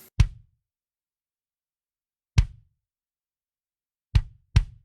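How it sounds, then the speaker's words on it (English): Kick drum struck alone four times, with uneven gaps between the hits and the last two close together, each a dry, punchy, close thump that fades quickly into silence. "The kick on its own sounds like this."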